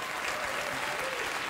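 Studio audience applause on a late-night talk show, a steady, full wash of clapping from the crowd that holds at an even level for the whole stretch.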